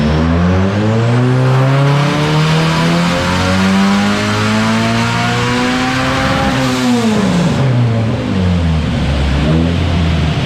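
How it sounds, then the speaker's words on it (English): A Nissan Pulsar with an SR20 engine revs hard on a race track, loud rising and falling engine notes as it accelerates, lifts off and pulls again, with a hint of tire noise, close and alone. "love the sound of the old SR20"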